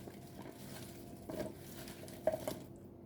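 Chicken pieces and potatoes tossed together with oil in a bowl by hand, quiet soft wet squelches and light stirring taps coming in short bursts, with a couple of brief louder clatters.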